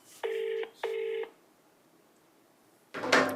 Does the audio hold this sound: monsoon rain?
no